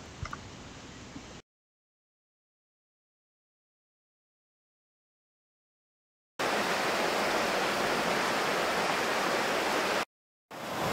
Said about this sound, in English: Rennie's River, in all its glory.